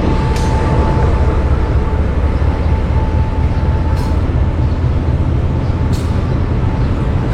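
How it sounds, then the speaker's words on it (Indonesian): Ambience at Ketapang train station in Java: a loud, steady broadband rumble of rail and station noise with a couple of brief faint chirps on top. "Nah ini situasi stasiun Ketapang ya."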